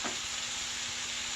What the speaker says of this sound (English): And just let it stir fry.